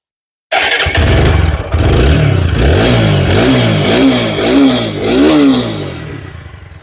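A black 4B motorcycle at a second-hand bike showroom starts abruptly, then idles and is revved several times in rising and falling pulses. The engine is loud and close, with no talking over it.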